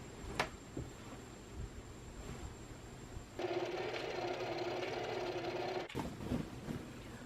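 A sewing machine stitches the shoulder seams of a dress in a quiet room, one burst of about two and a half seconds between soft handling taps and rustles.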